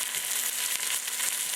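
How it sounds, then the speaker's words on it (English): A chuck roast sears in a hot pan, giving off a steady, close sizzle with no pauses and no voices over it. "Put the meat in. Get that sizzle."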